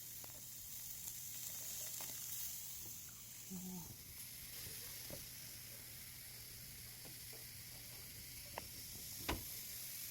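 Shrimp sizzling on a barbecue grill, a steady broadband hiss running throughout with faint crackles and a sharp pop near the end, voices murmuring quietly in the background.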